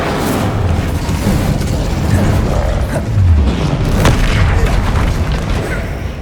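Incendio fire spell cast in the video game Hogwarts Legacy during combat, a loud deep whooshing boom with rumbling bursts and crackle layered over continuous game action.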